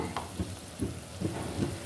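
Onions fry with spices in a pan for prawn curry, a soft steady sizzle with a spoon stirring in four regular scrapes, quiet and close, with no talk.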